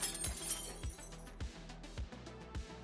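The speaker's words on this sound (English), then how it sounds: "My first attempt to break the glass was a bit barbaric" Light bulb glass shattering and crunching as it is broken apart, several sharp cracking impacts at a steady rhythm, close and fairly loud with tinkling fragments between hits.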